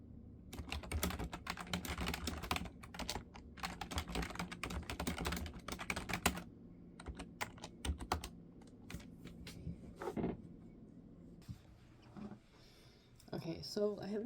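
Keys clatter on a computer keyboard during late-night novel writing, bursts of steady rapid tapping that pause and restart, close and clear, with brief sounds of someone moving between the runs.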